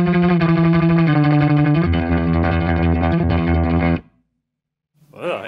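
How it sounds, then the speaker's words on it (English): A distorted electric guitar plays a high riff with no reverb, sustained chords shifting in pitch for several seconds, then stopping abruptly into dead silence before a short faint sweep of sound returns. "Now do that same high riff without reverb."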